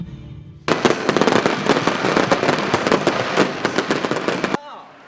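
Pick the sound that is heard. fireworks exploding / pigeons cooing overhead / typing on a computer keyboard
fireworks exploding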